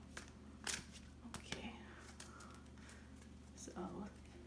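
Soft papery riffling and flicking of tarot cards being shuffled up close, with quiet crisp taps and a faint voice in the background.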